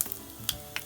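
Cumin seeds and a pinch of asafoetida hit hot oil and crackle with a faint, brief sizzle, marked by a few sharp pops, heard alone.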